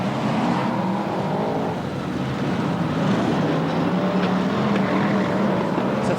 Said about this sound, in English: He's getting back racing again, but he's about to be put a lap down by 53 John Lund